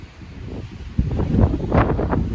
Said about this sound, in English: It's definitely windy up here